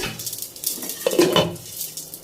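Hot oil poured over pumpkin greens for a fish-head curry, clattering pot and utensil knocks with a bright sizzle rising in the middle, close and fairly loud, with no talking.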